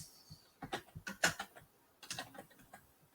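Quick, irregular bursts of key clicks on a Chromebook keyboard, close and crisp, with a brief pause in the middle before a second flurry of taps.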